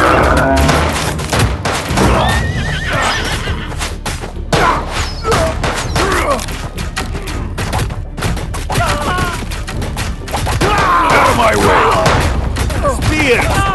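Gunfire volleys and booming shots in the mobile strategy war game Road to Valor: Empires, dense and loud throughout, with shouted battle commands and crowd noise mixed in.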